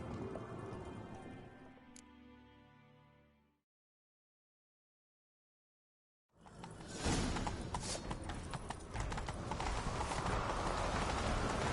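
A horse gallops in The Witcher 3 video game, its hooves pounding in a fast, loud, rhythmic run after a silent gap that follows quieter tonal game sound.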